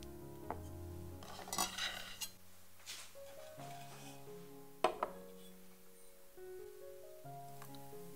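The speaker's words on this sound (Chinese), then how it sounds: "巧克力大致切碎即可" A knife chops a block of chocolate on a board in a home kitchen, giving a few sharp scattered taps and a short cluster of cuts over soft background music.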